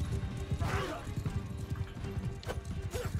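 Horse in Mount & Blade II: Bannerlord galloping, with rapid, rhythmic hoofbeat clip-clops throughout and a short whinny, partly under a voice.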